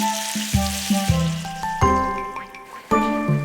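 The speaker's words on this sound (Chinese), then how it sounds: "加水。" Water poured into a hot wok of scallops, shrimp, chicken breast and kai-lan stems for Fujian fried rice, bursting into repeated loud sizzles and splashes in several surges, close and without speech.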